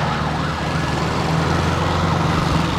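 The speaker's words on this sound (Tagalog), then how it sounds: "May dadaan, ambulansya, padaanin natin siya." A wailing ambulance siren sounds steadily amid passing road traffic and engine rumble on a road in Tanay, Rizal, Philippines, loud and close throughout.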